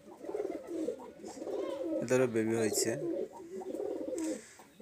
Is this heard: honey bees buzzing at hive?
no